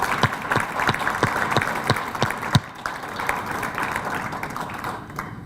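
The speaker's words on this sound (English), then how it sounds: "can we give one more round of applause for all these kids?" A crowd applauds steadily at a city awards ceremony for children, with many hands clapping in a dense, continuous patter and a few sharper claps standing out.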